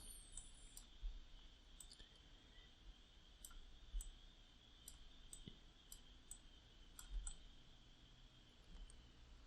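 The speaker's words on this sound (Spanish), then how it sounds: "presionando la tecla shift y haciendo clic y arrastrando en la gráfica" A computer mouse clicks while a graph is dragged in Mathematica: faint, sharp clicks come one at a time at irregular intervals over a quiet background hiss.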